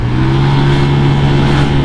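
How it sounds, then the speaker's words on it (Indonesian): Honda Vario 180cc scooter on its stock exhaust revving steadily, intake air noise louder than the pipe, a close, loud continuous engine drone with no talk. "Vario ini lebih kedengeran suara hisapan anginnya daripada suara knalpotnya"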